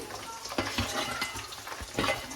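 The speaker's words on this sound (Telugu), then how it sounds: "కొంచెం ఫ్రై అయ్యే టైంలో పచ్చిమిర్చి అండ్ ఆనియన్ రెండు వేసేసుకున్నాం" Green chillies and onion fry in a hot pan, with a steady close sizzle broken by several sharp scraping stirs.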